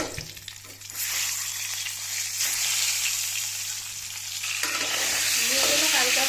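Eggs fry in a pan of oil seasoned with turmeric, giving a loud, continuous hissing sizzle that swells after a brief quieter start, with a low hum beneath.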